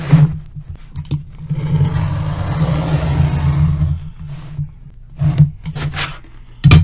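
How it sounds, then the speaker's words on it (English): A utility knife drawn along a ruler slices the folded seam of a thin cardboard USPS Priority Mail box, giving a steady close rasping scrape for several seconds, then a few short scraping strokes. "On the fold with a utility knife and ruler, I'm going to cut this seam."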